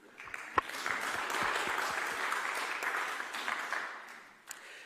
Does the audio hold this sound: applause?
yes